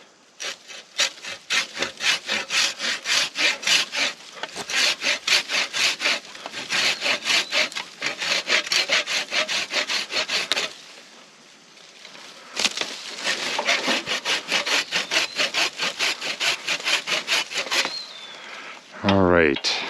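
Hand saw cutting through the broken top of a damaged tree, with steady rhythmic back-and-forth strokes in three long bursts separated by short pauses, loud and close.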